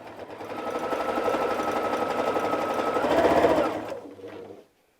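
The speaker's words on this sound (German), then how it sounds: "Und da nähen wir einmal mit der Nähmaschine entlang." Sewing machine stitching a patchwork seam, a rapid, even mechanical hum close by for about four seconds before stopping abruptly.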